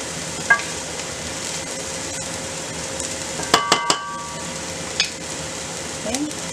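Garlic sautés in a pan for pinakbet, a soft steady sizzle running throughout with a few sharp metallic clinks of a utensil against the pan midway, close by, and a faint voice speaking under it.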